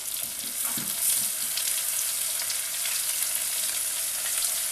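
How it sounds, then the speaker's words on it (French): Sliced onion sizzles with browned sausages in a pan for rougail saucisses, a close, loud, even hiss with a few soft stirring bumps early on. "Je vais ajouter donc mon oignon émincé."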